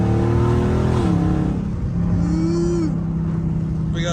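A catless Dodge Scat Pack's engine drones and rises in pitch while driving, a loud continuous exhaust note heard from inside the car.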